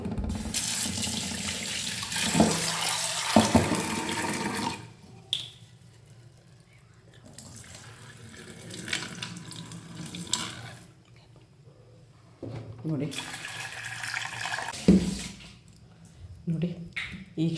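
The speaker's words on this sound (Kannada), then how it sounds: "ಇದನ್ನು ಒಂದು ಸರಿ ತೊಳ್ಕೊಂಡು ನಾವು ನೆನೆಯಕ್ಕೆ ಬಿಡೋಣ" Tap water runs in several long bursts as soybeans are washed before soaking to make tofu, with splashing in a sink, quiet pauses between and a voice speaking now and then.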